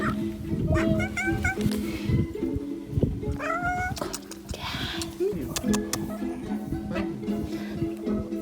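A street cat in Zadar, Croatia, meows several times at close range, short, rising cries spread through the clip while people talk nearby.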